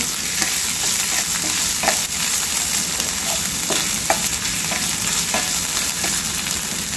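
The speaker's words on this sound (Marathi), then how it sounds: "आपलं तेल गरम झालेलं आहे आणि याला छान हलकंसं परतून घ्यायचं आहे" Chili, ginger and garlic paste fries in hot oil for momo filling, a loud, close, continuous sizzle broken by light stirring scrapes, with no talking.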